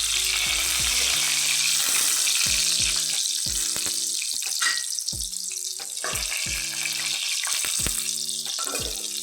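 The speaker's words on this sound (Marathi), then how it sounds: "लसूण आपला भाजला" Crushed garlic and cumin seeds sizzle steadily in hot oil in a home kitchen, with frequent clinks and scrapes of a utensil stirring against the pan and a brief tonal beeping pattern recurring throughout.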